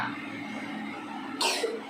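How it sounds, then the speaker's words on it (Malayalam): One sharp cough bursts out near the end, after a stretch of steady background hum in a quiet room. "2 ദിവസം തണുത്ത സാധനം കുടിച്ചതിന് ചുമയാണ്"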